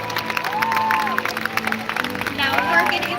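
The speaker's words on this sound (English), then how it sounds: "Everyone give a round of applause for Orchid!" Crowd applause and scattered cheers for the killer whale Orchid at a SeaWorld San Diego show, steady clapping filling the stands with a presenter's amplified voice carrying over it.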